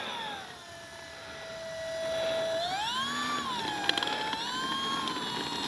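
Electric motor of an FMS 1500mm Skylane RC plane whines steadily, then its pitch sweeps upward as the throttle rises, with a high constant tone above, close and fairly loud with no talking.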